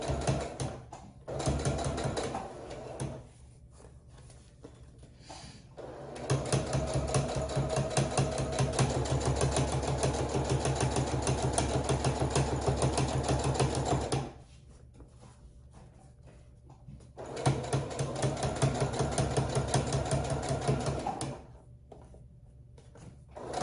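A sewing machine stitches ribbon onto an apron in loud bursts of rapid mechanical whirring, several seconds each, broken by short quiet pauses where the fabric is turned.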